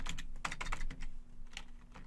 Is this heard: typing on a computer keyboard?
yes